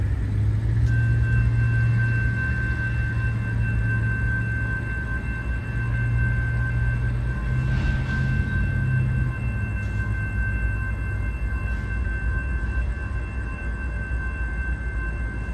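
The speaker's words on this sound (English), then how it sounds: "The first train we would see would be CSX L793, the southbound rock train from Winston to Miami" CSX L793, a southbound rock train running from Winston to Miami, passes at night with a steady, loud, low rumble and a sustained high whine that holds throughout.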